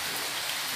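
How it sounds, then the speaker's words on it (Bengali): Heavy rain pours steadily during a low-pressure storm in India, a dense, even hiss of drops close by with no other sound over it for a brief moment. "ভীষণ বৃষ্টি হচ্ছে তো। খুবই বৃষ্টি হচ্ছে।"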